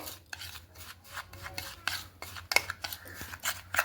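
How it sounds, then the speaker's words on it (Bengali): Semolina and sour yogurt stirred together in a bowl, giving soft scraping and rubbing strokes with light clinks of a spoon against the bowl, repeated irregularly and close by. "এরপরে সেই টক দই আর সেই সুজিটাকে দিয়ে এইভাবে একটু মিশিয়ে নেব খুব ভালো মতো করে।"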